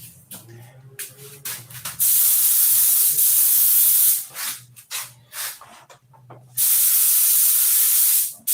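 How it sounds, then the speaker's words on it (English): A spray gun shooting thinner in heavy flow coats gives loud bursts of hissing spray, two long sustained blasts and several shorter ones, broken by brief pauses with a low hum beneath. "when you're spraying thinner, it goes out of there quick"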